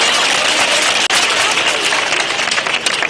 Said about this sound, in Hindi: चल आशीर्वाद बाबा जी के लिए, तालियां तो जोर से बजा